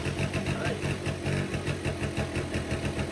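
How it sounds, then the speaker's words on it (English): A 40-year-old Honda Aero scooter being cranked after sitting for decades, a fast rhythmic chugging of the engine turning over, steady and close throughout. "I'm gonna try and crank it here and see if it'll turn over."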